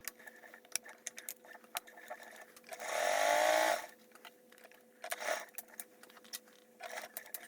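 A domestic sewing machine stitches an insulated tote bag in one short burst of steady whirring near the middle, with quiet clicks and taps of handling before and after.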